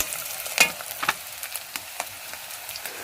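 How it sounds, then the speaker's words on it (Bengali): Onion, green chilli, capsicum and ginger-garlic sauté in plenty of oil in a pan, a close steady sizzle broken by a few sharp spatula scrapes and clicks, with no talking. "পেঁয়াজ, কাঁচা লঙ্কা, ক্যাপসিকাম, আদা রসুন সব কিছু দিয়ে দেখো কষাচ্ছি, অনেকটা তেল দিয়ে কষাচ্ছি"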